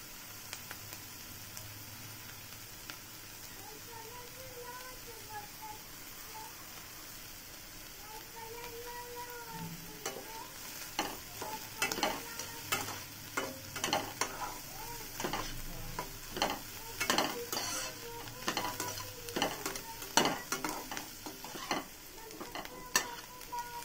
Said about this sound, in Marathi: मिरची पण छान अशी भाजून घ्यायची।